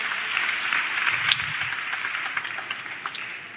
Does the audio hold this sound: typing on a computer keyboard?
no